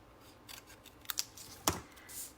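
Scissors cut a shiny paper sentiment strip straight across for card making, producing a few crisp, close snips separated by short pauses.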